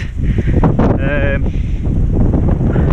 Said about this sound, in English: We're now back on the tarmac, but there's still this headwind